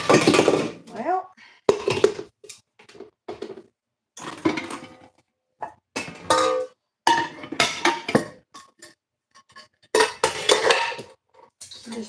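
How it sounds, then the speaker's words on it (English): Dishes and cutlery being put away in a home kitchen, heard as bursts of clattering and clinking with short pauses between them, close and fairly loud, with a voice speaking at times. "just put these few dishes away."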